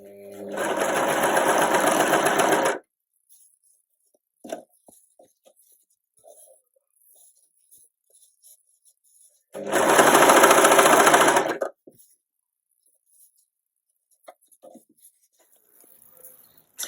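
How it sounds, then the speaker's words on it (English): Two loud bursts of a sewing machine stitching rapidly, each lasting a couple of seconds, separated by quiet with faint handling clicks. "I thought easier on my sewing machine"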